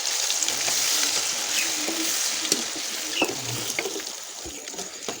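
Makhandi halwa stirred and cooked in a pan, a steady close sizzle with scattered spoon scrapes and soft clinks running throughout, no voices.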